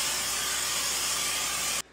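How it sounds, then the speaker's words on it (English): A fryer basket, oily from frying turkey, is sprayed down with water over a sink: a loud, steady, broadband hiss of spray runs unbroken for almost two seconds, then cuts off abruptly. "I'm spraying this in the sink just so I can spray it wherever all the excess oil goes down into the sink"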